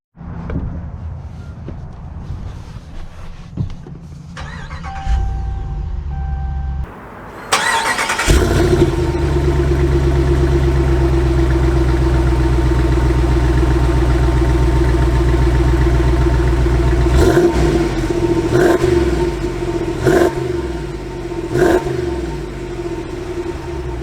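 A 2022 Ram 2500 Power Wagon pickup cranks and fires up, settles into a loud, close idle, then pulls away with a steady engine drone and several brief surges as it drives.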